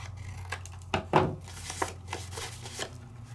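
Paper cutter or scissors trimming a sheet of raised 3D-embossed cardstock, giving a few soft crisp snips and rustles close by in a quiet room.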